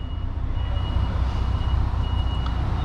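A truck with a trailer reversing, its backup alarm sounding a steady high beep over a loud, constant diesel engine rumble close by.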